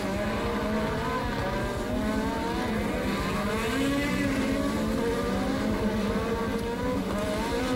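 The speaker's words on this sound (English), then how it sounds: "Senna restarts in reverse gear, and that's René Arnoux in the red Ferrari storming through the field" Formula 1 race cars of 1984 at the Dallas Grand Prix street circuit, engines roaring steadily throughout with overlapping high-pitched revving from several cars passing close by, loud and continuous with no talk.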